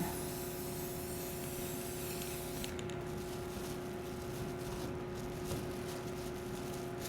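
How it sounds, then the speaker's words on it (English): A continuous hissing spray from a spray paint can onto a plastic bag, steady and close for several seconds with a constant background hum. "I'm going to spray some paint out."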